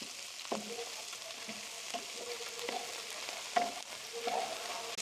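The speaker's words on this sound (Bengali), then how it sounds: "ফুলকপি এবং ব্রোকলিগুলো দেওয়ার পর একটু সতে করে নেবেন" Cauliflower and broccoli being sautéed with garlic, onion and chilli in a pan for a Chinese-style broccoli chicken dish: a soft, steady sizzle with occasional scrapes and stirs of a utensil, fairly quiet and close, with no talking.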